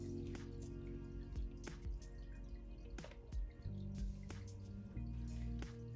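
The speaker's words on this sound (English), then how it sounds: "So then all you need to do is just fill this whole thing up with water." Water trickles and drips steadily into a glass globe as it fills, close and soft, with a faint background hum and no voices.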